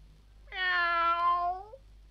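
A single drawn-out cat meow, clear and close, rising then falling over about a second and a quarter against a quiet background. It comes from a 1967 Trumpton record, where a cat is rescued from the town hall by the fire brigade.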